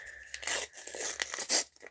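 A perforated paper packet is torn open by hand in a few quick ripping bursts with crinkling in between, close up and alone.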